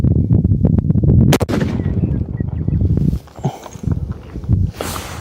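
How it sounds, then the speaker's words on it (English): A 7 PRC Tikka rifle fires a loud, sharp shot outdoors, followed by rumbling echo and handling noise, with a brief gust of wind at the end. "He's going to be shooting the 195 EOL."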